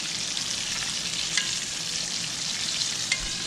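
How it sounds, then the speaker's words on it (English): Fish floured and frying in a pan sizzles loudly and continuously, a close steady crackle with a couple of faint clicks and no talking. "Fish is frying up good."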